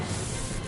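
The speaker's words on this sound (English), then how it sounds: "Alright, spray yourself. You gotta spray." A first aid spray in the Friday the 13th video game lets out a short, even hiss that stays steady for its whole brief burst, close and moderately loud.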